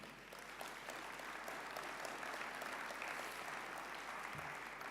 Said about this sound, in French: vous pouvez l'applaudir pour tout le travail qu'ils ont accompli